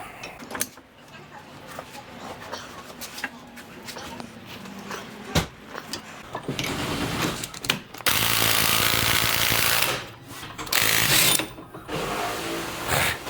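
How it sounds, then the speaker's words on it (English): An impact wrench drives in an upper ball joint on a VW Baja Bug, sounding as several loud, rapid rattling bursts of a few seconds each with short pauses between them, after a stretch of softer clinking workshop noise. "Now I'm going to take my impact and buzz it in."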